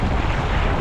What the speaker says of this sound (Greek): Είναι ο βοριάς που έρχεται πίσω μου και σπάει, και πότε έρχεται από τα αριστερά, πότε από τα δεξιά.